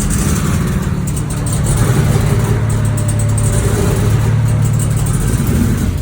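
A 700hp drift car that sat unused for three years, its engine close by and running rough and loud at idle with a slightly uneven, throbbing pulse and a small rise in revs partway through.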